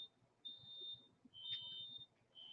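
A smoke alarm sounds indoors in a series of faint, shrill, high-pitched beeps, several pulses in an uneven rhythm, distant and quiet over soft room noise.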